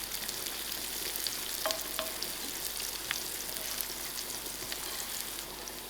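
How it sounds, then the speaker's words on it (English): Garlic fries in a pan for tuna pasta, a soft continuous sizzle with faint scattered pops and a few light ticks of a utensil, quiet and without talk. "I'm adding in my garlic to it. Give it a few seconds to fry out."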